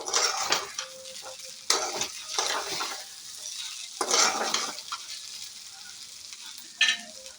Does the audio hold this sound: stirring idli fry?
yes